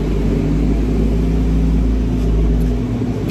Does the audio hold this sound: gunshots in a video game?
no